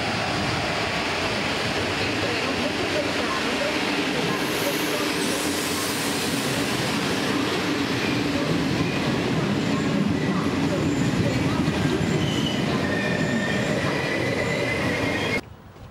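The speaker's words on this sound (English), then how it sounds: "The Naples underground train." Underground metro train in Naples running at speed, a loud continuous rumble with high wheel squeals layered over it throughout, ending abruptly near the close.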